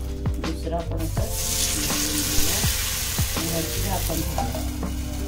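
Sabudana thalipeeth frying in ghee on a hot griddle, a steady loud sizzle that continues unbroken, with faint scraping and stirring sounds on top.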